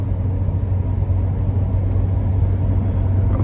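An 850 HP Procharged C7 Corvette Z51 3LT engine drones steadily from inside the cabin, a loud, continuous low rumble with a strong hum and no voices.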